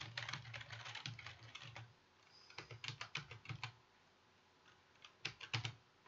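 A new password is typed on a computer keyboard in quick, close bursts of keystrokes, with a short pause between runs and a final flurry near the end, with no talk.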